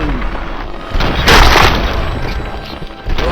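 A single loud, deep boom blasts through a wall in RoboCop: Rogue City, swelling into a broad rumbling burst that fades over about a second.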